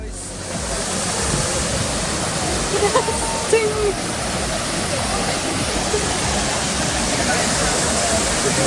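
Steady rushing roar of falling and splashing water from the Trevi Fountain in Rome, loud and continuous, pouring into its basin.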